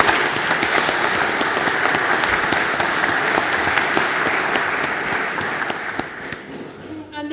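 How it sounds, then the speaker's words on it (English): Warm, steady applause from wedding guests during a ceremony, loud and continuous before fading out at the end. "I think some applause for that for Rachel."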